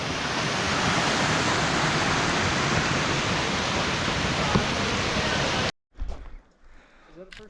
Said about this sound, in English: There's another decent waterfall.